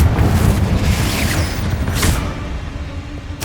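Spell explosions from Hogwarts Legacy boom loudly in a video game, a heavy low-end rumble with sharp bursts roughly every second and a half.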